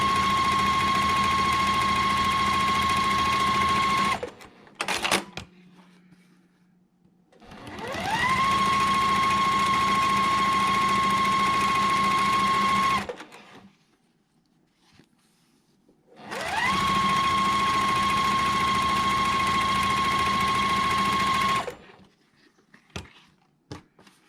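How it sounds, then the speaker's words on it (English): A sewing machine stitches fabric along both sides of a drawn line in three long steady bursts of fast, even whirring, each starting up and stopping abruptly, with quiet pauses and small handling sounds between runs. "we're going to sew on each side of the line"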